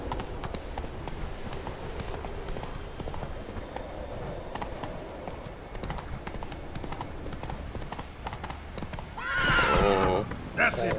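Geralt's horse Roach galloping in The Witcher 3, a continuous thudding of hoofbeats under someone talking, then a loud whinny near the end followed by more hoof noise.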